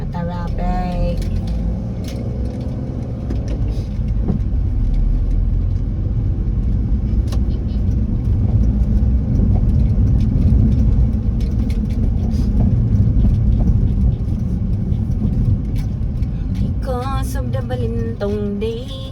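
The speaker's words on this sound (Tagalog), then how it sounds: "It's traffic." Steady road traffic with car engines rumbling, a continuous dense low drone throughout, with a voice speaking briefly over it near the start and end.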